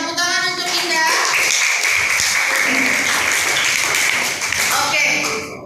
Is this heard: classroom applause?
yes